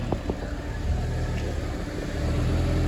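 A Ford RS2000 engine on a scrapped, overheating car revs steadily at idle-to-mid range, a continuous mid-pitched engine drone with a slight rise in the second half, close by and without speech.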